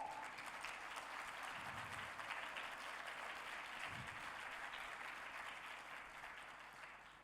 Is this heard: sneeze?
no